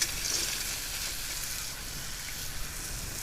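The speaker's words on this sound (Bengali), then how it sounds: "এবার আমি ভেজে রাখা বাদামগুলো দিয়ে দিচ্ছি।" Fried peanuts go into a pan of sizzling onion, tomato and spice masala. A continuous low, even frying hiss carries faint scattered pops and a small knock near the end, with no talking.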